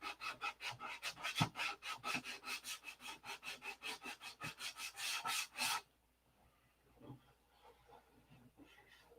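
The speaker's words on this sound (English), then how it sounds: "More sanding." Repeated rasping strokes of sandpaper on the fuselage of a P-47 model airplane, a fast steady back-and-forth rhythm up close for about six seconds, then stopping and leaving only faint handling noise.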